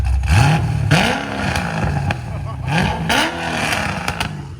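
A cammed Chevy Corvette Z06 with a 7.0L V8, headers and Valvtronic Designs exhaust revs repeatedly nearby, each blip climbing and falling in a rough, lopey snarl, with people talking over parts of it.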